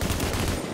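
Rapid automatic gunfire in The Division, set in New York, a dense, loud burst of shots crackling close for under a second with no voices.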